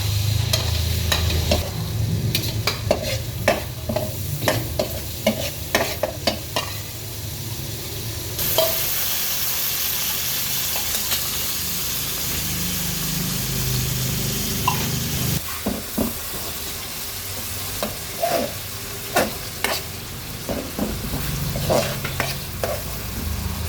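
Garlic and onion sautéing in a pan after hotdogs have been fried, for Filipino spaghetti: a loud, continuous sizzle with repeated scraping and stirring clicks from a utensil, close up, no talking.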